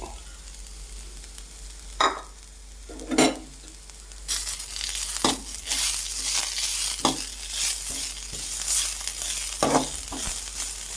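Bitter gourd and coconut frying in a pan, a loud hissing sizzle broken by repeated spatula scrapes and stirring knocks, no voices.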